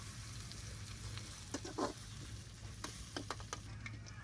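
Sliced onions frying in hot oil in a pan for mutton biryani, a soft continuous sizzle with a few brief scraping stirs and clinks, fairly quiet over a low steady hum.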